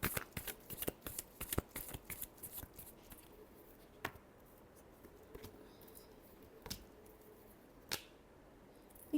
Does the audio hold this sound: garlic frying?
no